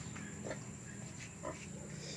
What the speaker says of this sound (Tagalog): papakita ko sa inyo kung paano ako maglipat ng ating mga baboy dito sa pre range area